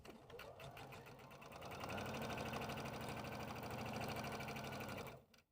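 A sewing machine runs steadily, stitching the fabric lining of a small case, its fast needle rattle close and continuous before stopping abruptly at the end.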